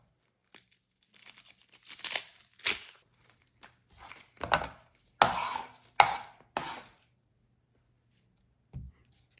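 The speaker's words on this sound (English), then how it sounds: "Next, we're going to cut the onion." Knife chopping through an onion on a board, heard as a series of separate crisp cuts and crunches with pauses between them, close and fairly loud, ending with one last faint chop.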